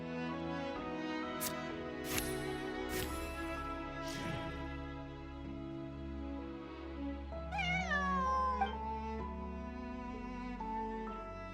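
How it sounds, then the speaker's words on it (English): A cat meows in Genshin Impact, several plaintive calls under game background music, fairly faint. "Meow. Meow meow."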